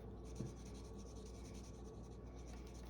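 A bold-tipped dual-sided marker writes quickly across thin planner stickers, producing a faint, steady scratchy rub close up in a quiet room, with no talk.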